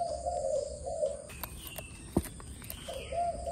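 Malaysian spotted dove giving a soft cooing call, a couple of low hooted phrases separated by a pause, faint and close in a quiet setting with light clatter.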